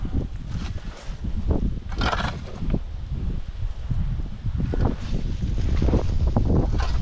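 Wind gusts across a rural village field during winter crop planting, buffeting the microphone in rough, continuous bursts of noise that swell and fade.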